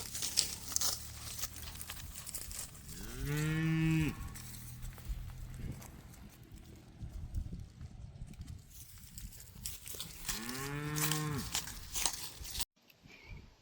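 Two long, deep moos from cattle on a ranch ring out several seconds apart, set against rustling, shuffling and outdoor background noise.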